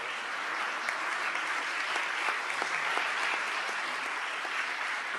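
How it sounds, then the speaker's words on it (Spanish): An audience at a seminar on municipal reform gives a sustained round of applause, a steady, fairly distant crackle of many hands with occasional sharper claps standing out. "démosle un aplauso"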